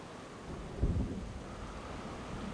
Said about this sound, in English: It sucks, it's raining.